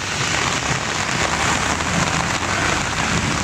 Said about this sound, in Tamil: சுமார் அரை மணி நேரத்திற்கும் மேலாக மிதமான மழை பெய்தது